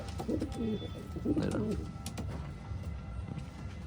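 Pigeons coo softly in a loft, a few low rolling calls up close, with quiet background noise and a person talking.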